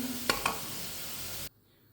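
Vegetables or onions frying in hot oil for a vegetable biryani: a steady sizzle with two brief clinks of a utensil against the pan, then the sizzle cuts off abruptly into near silence.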